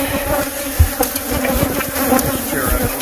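Bees buzz steadily inside an RV, a dense and continuous close drone with a few soft knocks and rustles underneath.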